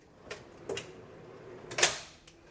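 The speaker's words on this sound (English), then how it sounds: "that noise you hear, that is actually the locks kicking in" Locks on heavy-duty drawer slides in a camper van conversion engage with three sharp, close mechanical clicks spread over a couple of seconds. The last click is the loudest, and a quiet room hush sits beneath them.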